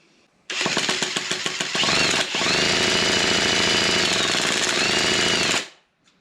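A small old engine with points-type ignition is cranked over for about five seconds, giving a loud, rapid, rhythmic chuffing of compression strokes that stops abruptly.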